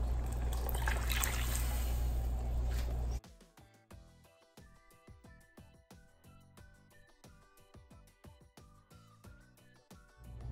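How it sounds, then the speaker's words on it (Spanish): About a litre of water pours into a pot of tomato sauce as a loud, rushing splash for the first few seconds, then gives way to quiet music. "En este momento le voy a agregar un litro de agua"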